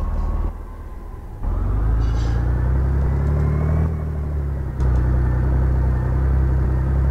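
A car driving slowly in the Revhead video game, its engine giving a steady, loud, low rumble with a brief drop in level early on and a slight dip near the middle, with no one speaking.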